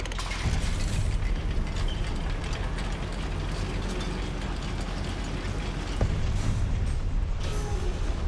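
A goblin mine lift in Hogwarts Legacy grinding into motion, a continuous clanking, ratcheting mechanism with creaks and gear rattles, fairly close and steady, with a heavier clunk partway through.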